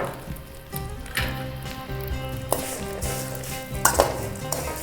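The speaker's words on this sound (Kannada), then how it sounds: "ಒಂದು ನಿಮಿಷ ಇದನ್ನು ಕೂಡ ಫ್ರೈ ಮಾಡ್ಕೊಂಬಿಡೋಣ" Red chillies and grated coconut frying in a pan make a soft, continuous sizzle with occasional stirring clinks, close by and fairly quiet, with no talking.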